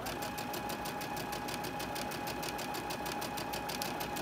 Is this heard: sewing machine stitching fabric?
yes